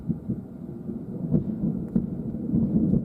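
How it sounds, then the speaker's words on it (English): Storm-chasing in Oklahoma, thunder rumbles low and steady over a windy, rainy background, with a couple of sharper cracks standing out before the rolling continues. "I know that had a thunder crack to it."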